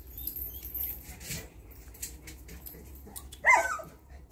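A dog gives a sudden sharp bark or yelp near the end, over a low background rumble, with quieter whimpering and shuffling earlier on.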